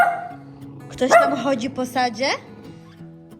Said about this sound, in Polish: Chyba pierwszy raz słyszycie, jak pies u nas szczeka.